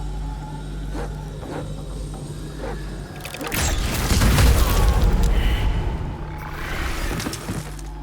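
In the fantasy role-playing game Baldur's Gate 3, a loud, rumbling explosion bursts out after a few faint clicks and taps, swelling for a couple of seconds before fading into debris-like crackles.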